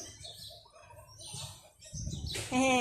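A bird calls out near the end, a clear tonal whistle rising above background voices and outdoor noise.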